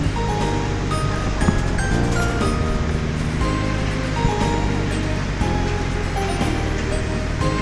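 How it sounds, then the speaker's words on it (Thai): A fountain splashes in a residential activity plaza on Rama 4 Road in Bangkok, giving a constant, close rush of falling water with scattered faint chimes and background noise. "มีน้ำพุสวยงามพี่น้องเอ้ย"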